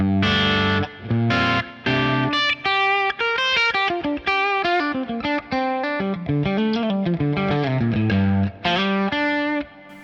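An electric guitar plays a melodic run of notes and chords through a Klon-style overdrive pedal with gain off and treble halfway into a Deluxe Reverb amp, lightly driven and clean-leaning, loud and close with no talking.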